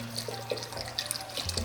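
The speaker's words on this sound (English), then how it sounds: "So I'm just gonna add all of the broth in here." Broth poured into a pot for a poblano chicken squash chili, a steady liquid trickle and splash with small drips, fairly quiet and close.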